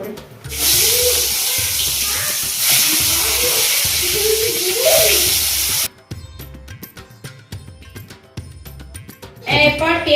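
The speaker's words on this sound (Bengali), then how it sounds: "চলো ডিমটাকে আমি ভেজে নিই হালকা করে।" Eggs sizzle and hiss loudly in a pan for the first six seconds, a steady broadband spray, then the sizzle drops away into quieter kitchen clatter with a brief burst near the end; background music runs underneath.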